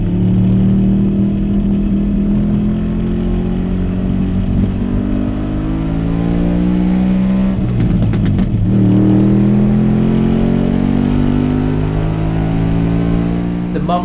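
An Alfa Romeo Montreal's dry-sump, four-cam V8 with full race cams revs up close. The deep, tuneful exhaust note swells and falls in repeated sweeps, with a sharp crackling blip partway through.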